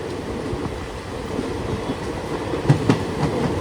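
A Garib Rath Express train runs steadily along the tracks, its low continuous rumble broken by a few clattering wheel knocks near the end; no voices.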